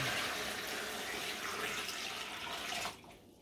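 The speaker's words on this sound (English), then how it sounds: "I'm just going to add water to this cooler" Steady rushing water pours and splashes into a cooler holding a turkey for brining for a few seconds, then abruptly quiets as the flow stops near the end.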